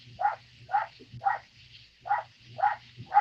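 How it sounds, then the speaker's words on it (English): A dog barks excitedly in a steady series of six sharp, moderately loud barks spaced about half a second apart, with a low hum running underneath and no talking. "Dog sounds excited for the show."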